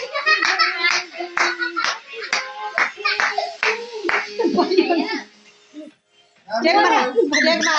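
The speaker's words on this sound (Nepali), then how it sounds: "ताली बजाइए ना ताली" Hands clapping in quick rhythmic bursts at a child's birthday party, mixed with excited voices and someone talking, a brief lull near the end before the clapping and chatter resume.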